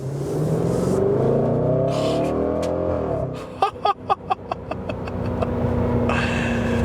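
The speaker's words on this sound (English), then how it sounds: "When you shift gears, it sounds like the back just blew out of the car" A 2020 Range Rover Velar SVAutobiography engine drones steadily, then a gear shift brings a quick series of sharp exhaust pops and crackles before the engine hum resumes.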